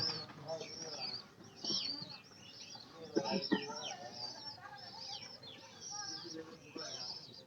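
Pigeons cooing and fluttering nearby in a steady, busy stretch of calls and wing movements, with a voice talking faintly underneath.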